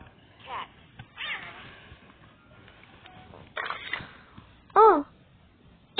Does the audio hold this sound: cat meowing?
yes